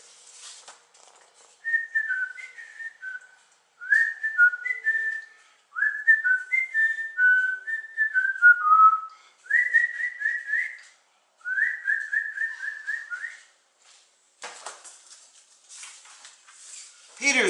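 A person whistles a cheerful, bouncy tune alone, several short melodic phrases separated by brief pauses, clear and close, with a breathy rush near the end.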